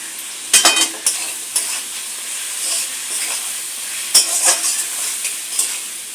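Chicken gizzard and liver sautéed with tomato in a pan, spiced with pepper and chili, giving a soft sizzle punctuated by repeated sharp scrapes and clinks of a spatula stirring close up.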